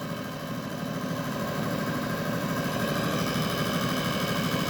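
A car engine idles at about 700 RPM and is brought up toward 800 RPM, giving a steady low, even rumble throughout with no talking.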